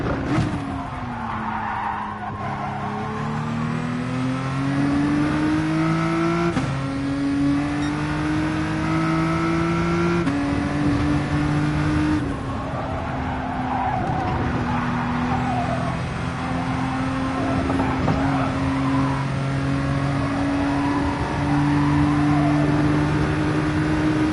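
Race car lapping Dragon Trail in Gran Turismo Sport, its engine droning steadily and shifting pitch through gear changes, with tire squeal and skidding layered over the loud, continuous run.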